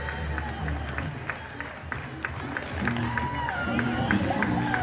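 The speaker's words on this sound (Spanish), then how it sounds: "Y el aplauso de todos los presentes." Audience applause at a 168th anniversary celebration of the founding of Cutzamala, a town in Mexico: moderate, steady clapping from a crowd heard a little at a distance, with general chatter and crowd noise underneath.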